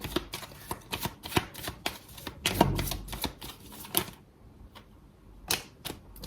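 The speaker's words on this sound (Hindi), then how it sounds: "दोबारा से शफल कर लेते हैं।" Tarot cards being shuffled again by hand, a run of crisp, rapid riffling clicks and flicks close up, with brief pauses between bursts and no talking.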